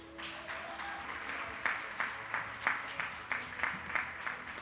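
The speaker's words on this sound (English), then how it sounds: "we applaud you" An audience at a teachers' association awards ceremony applauds in steady clapping that grows into a rhythmic, evenly paced beat of unison claps, heard moderately from within the hall with no talking.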